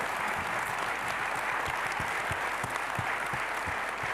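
An audience at a talk on just peace in The Hague gives warm applause, steady and full for the whole stretch, with many hands clapping close and evenly and no one talking over it.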